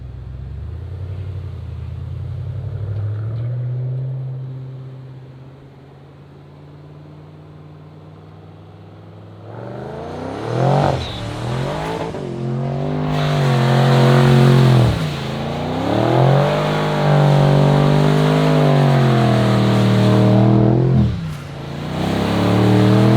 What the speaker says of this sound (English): Here goes Evan with donuts around the Cayenne.